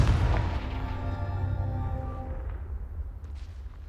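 Confringo blasting spell explosion in the Hogwarts Legacy video game: a loud, close booming blast with a heavy low rumble that decays over several seconds, alone without speech.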